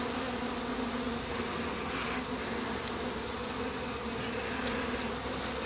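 A dense, steady drone of many honey bees from a package buzzing together in the rain fills the whole stretch, close and constant, with no talking.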